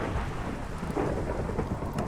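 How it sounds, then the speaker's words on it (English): A Minecraft thunderstorm gives a dense, steady hiss of rain with low rolling thunder beneath it, constant and enveloping, with no voices. "as you can see, it's definitely a thunderstorm."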